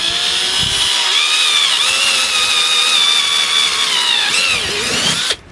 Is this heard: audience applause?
no